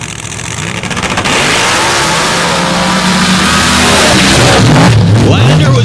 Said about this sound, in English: Pair of muscle trucks here on the starting line. Let's see what they can do.